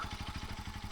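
Motorcycle engine pulling away on a ride toward Bukachogadi, Bhaktapur, a steady low pulsing chug with a regular beat, close and fairly loud throughout, no talk.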